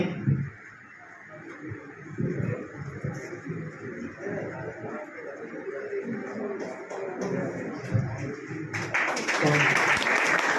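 Audience clapping at a book launch function at a coaching institute, starting sparse and uneven under a murmur of voices, then swelling into louder, fuller applause near the end.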